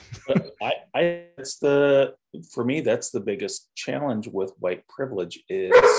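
A dog barks and yips in short bursts close by, cutting into a man's steady conversational speech that carries on throughout.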